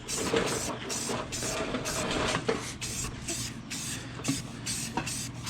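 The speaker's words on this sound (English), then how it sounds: "I just want to get a good coat of primer on these so that they don't rust up." Steady spray-can hiss as primer is applied to old wheels, broken by short regular bursts and pauses, close and fairly loud over a constant low background hum.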